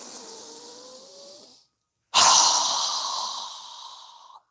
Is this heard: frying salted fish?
no